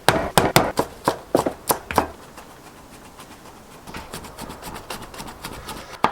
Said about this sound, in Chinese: 剁得越细越好